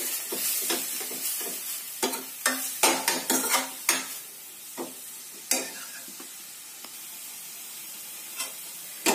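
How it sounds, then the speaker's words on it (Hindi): Chopped spinach is stirred and cooked in a pan for carrot soup, with a spoon scraping and knocking against the pan in quick close strokes over a soft sizzle, then quieter occasional stirs. "ये जो पालक हमने चॉप करी हुई है इसको ऐड कर देंगे और इसको अच्छे से पका लेंगे"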